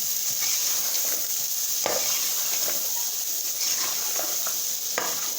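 Chicken curry masala sizzles loudly in a pan while being stirred, with bright continuous frying hiss and several scraping strokes of the spoon. There is no talking.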